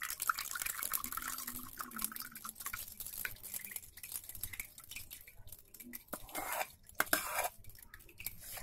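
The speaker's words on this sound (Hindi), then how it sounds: "अब इसे छान लेंगे।" Beetroot and carrot soup drips and trickles through a sieve set over a pot, with faint splashes, clinks and scraping sounds, close and fairly quiet.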